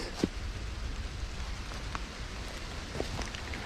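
Heavy rain falls in a forest during mushroom picking, a steady soft hiss with scattered individual drops pattering close by, fairly quiet and with no voices.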